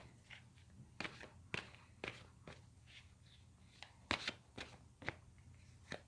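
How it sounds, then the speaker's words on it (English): Tarot cards are shuffled and pulled from a deck, with soft, close slaps and riffles in an irregular rhythm, a dozen or so quiet flicks over near silence. "I'm going to pull 2 sets of cards for twin flames"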